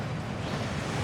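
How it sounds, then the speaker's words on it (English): A waterfall inside a Gringotts vault tunnel in the game Hogwarts Legacy, heard as a steady, dense roar of falling water with no break, fairly close and alone. "That waterfall washes away all enchantments."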